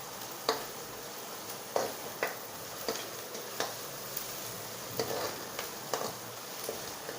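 Onion mixture for uttapam being sautéed in a pan, a soft steady sizzle punctuated by regular spatula scrapes and taps roughly every half second to second, fairly quiet and close.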